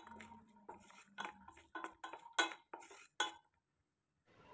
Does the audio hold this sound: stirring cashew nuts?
yes